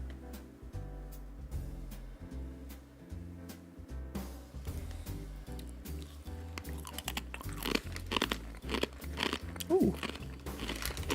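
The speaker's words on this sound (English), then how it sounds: "So crunchy." Crunching and chewing on a spiced, savory Ukrainian snack, crisp bites close to the mic, growing louder and denser toward the end, with music playing underneath.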